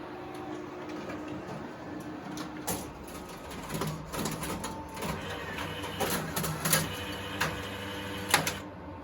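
An office printer churns through a parish magazine job, printing, folding and stapling with steady mechanical whirring, rattles and repeated sharp clacks and thumps, heard up close in a parish office.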